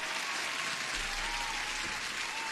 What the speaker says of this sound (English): Huge applause to everyone